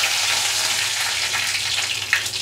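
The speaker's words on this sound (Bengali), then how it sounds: "এই সম্বার যাকে বলে, তার জন্য একটা শুকনো লঙ্কা তেলে দিয়ে দিলাম" Dried red chilli and curry leaves sputter in hot oil for a tempering, a dense, steady frying hiss with faint crackles throughout and no talking.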